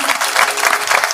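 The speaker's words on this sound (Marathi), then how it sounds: "मनापासून जोरदार टाळ्या वाजवा त्यांच्यासाठी" An audience claps loudly and steadily for the accompanying musician at a kirtan, a dense wash of applause that carries through the whole moment.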